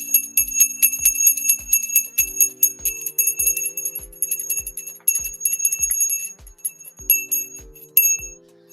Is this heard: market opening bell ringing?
yes